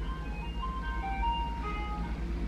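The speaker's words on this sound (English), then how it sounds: "Do you guys hear the ice cream truck?" An ice cream truck passing outside plays its faint tinkling melody over steady low traffic rumble, distant and continuous.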